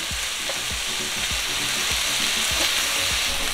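Shaved steak frying with onions and peppers in a pan, giving a steady, close sizzle with soft stirring scrapes and a few brief pops, no voices.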